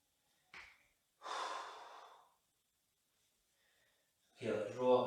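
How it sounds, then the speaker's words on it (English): Slow, deep breaths taken during a stretching workout: a short intake followed by a longer, audible exhale, then quiet and a fainter breath near the end before a voice begins speaking. "And breathe."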